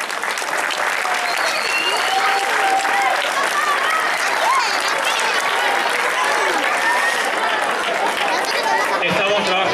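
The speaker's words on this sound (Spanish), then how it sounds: "Fuerte el aplauso." Strong, sustained applause fills a sports club's athletes' celebration, dense crowd clapping running steadily throughout with a murmur of voices and chatter mixed underneath.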